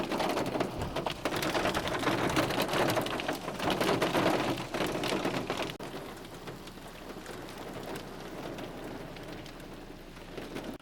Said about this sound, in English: Due to the rain and hail,